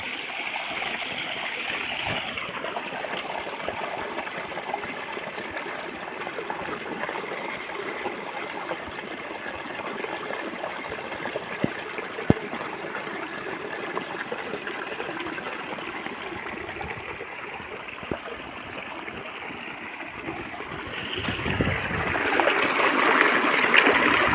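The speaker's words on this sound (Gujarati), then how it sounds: "આ રીતનું આપણે પાણી આવે મિત્રો જો" Water in a stream runs steadily, a continuous rushing flow that swells slightly louder near the end.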